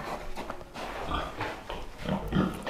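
A young sow kept back from a litter sold for breeding, now grown and recently inseminated, grunts and snuffles at close range in a farmyard pen, with the low rumbling noises continuing unevenly through the moment.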